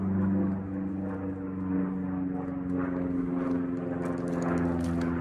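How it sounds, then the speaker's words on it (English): Propeller airplane passing overhead near a residential road on 146th Ave in Gig Harbor, a steady low droning hum with layered engine tones holding at moderate loudness throughout, no talking. "that's a plane flying over."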